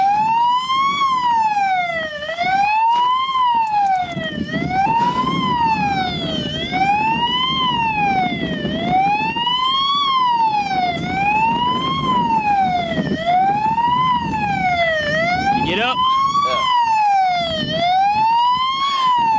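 A loud police car siren wailing up and down in steady cycles, close by and continuous, over the rumble of a vehicle during a slow-moving police chase in Fort Worth, Texas.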